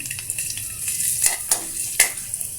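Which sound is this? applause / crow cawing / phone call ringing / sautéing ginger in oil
sautéing ginger in oil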